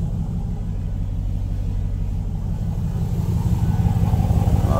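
A deep, rumbling 2018 Dodge Durango SRT engine idles close by, with a low throaty growl that swells slightly toward the end.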